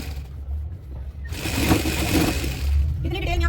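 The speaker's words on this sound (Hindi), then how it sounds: "अब जो चुंगट के ऊपर से सिलाई लगाते हैं वो वाली सिलाई लगा देंगे।" A sewing machine stitching salwar fabric starts after about a second of quiet, then runs as a continuous close motor whir and needle rattle for the rest.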